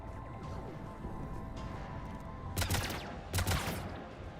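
Heavy cannons fire in Mass Effect, two loud broadband blasts with rumbling tails landing about a second apart over a steady droning sci-fi ambience, no voices present.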